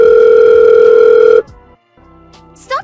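An unanswered phone call produces a loud, steady ringing tone that lasts about a second and a half, then cuts off into near silence with a faint click near the end.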